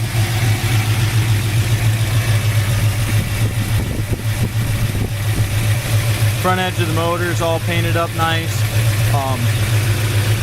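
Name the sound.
1972 Ford Mustang Mach 1 351 Cleveland engine idling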